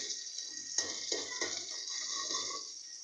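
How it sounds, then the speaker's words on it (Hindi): Cauliflower mixed with salt is stirred in a pan, giving soft scraping and clinking of a utensil against the metal in a few strokes, over a steady faint hiss. "अब हम इस गोभी नमक में मिलाकर इसको हल्का सा चला लेंगे"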